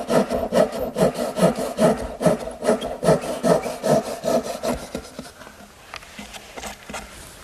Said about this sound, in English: I'm simply going to use my dovetailing saw. Just hold my thumb up against it to guide it, and cut straight down.